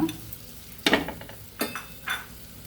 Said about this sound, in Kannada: ಬೆಣ್ಣೆ ಹಾಕಿ ಸ್ವಲ್ಪ ರೋಸ್ಟ್ ಮಾಡ್ಕೋಬೇಕು ಬ್ರೆಡ್ನ